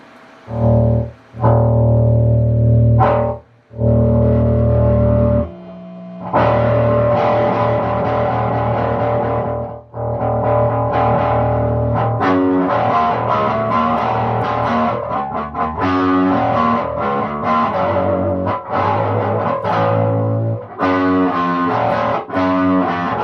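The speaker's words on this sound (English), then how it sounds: "one of the biggest drawbacks of an old SVT is trying to be able to get distortion out of it" Loud, gritty distorted bass guitar through an old Ampeg SVT tube amp plays sustained notes and riffs with a few brief pauses, heavy and saturated, with no voices.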